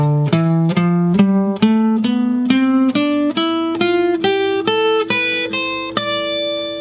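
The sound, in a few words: guitar playing A natural minor scale in D position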